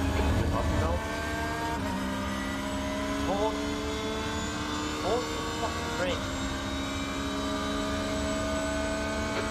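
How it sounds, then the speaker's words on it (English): Engine note of a Porsche 911 GT3 R in iRacing at the Red Bull Ring, a sustained tonal drone with pitch shifts as another car closes in, sitting under steady engine noise throughout. "There's a faster car approaching."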